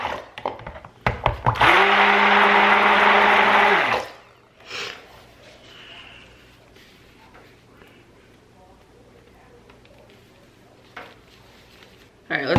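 A stick blender whirs loudly in soap batter for about three seconds, a steady motor drone with a pitch that rises at start-up and drops at shutoff, followed by quieter clinks and handling noise.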